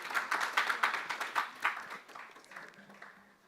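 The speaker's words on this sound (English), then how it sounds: "you can give him a round of applause" Audience clapping for a professor at an artificial intelligence conference, a fairly dense patter of hands lasting about two seconds before fading into quieter room noise.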